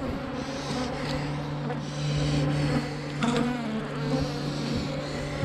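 A honeybee colony buzzes steadily around an open hive, a dense, continuous hum of many wings up close with a few louder passes of individual bees, and no voices.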